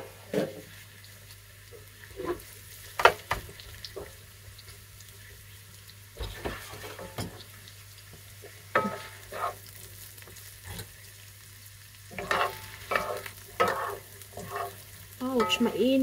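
King oyster mushrooms sauté in a hot pan that already held crispy chicken skin, with a soft steady sizzle broken by repeated clattering stirs and scrapes of a utensil, close and fairly quiet.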